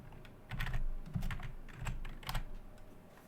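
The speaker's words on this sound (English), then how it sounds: "I'm typing in something" Fingers tap on a computer keyboard in short, quiet bursts of clicking keystrokes, close by and with no talking.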